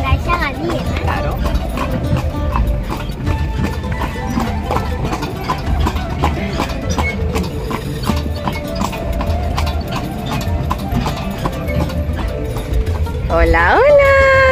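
Horse-drawn carriage ride through the Agadir marina in Morocco: steady, close clip-clop of hooves on pavement with faint wheel rattle throughout, and a high squeak near the end.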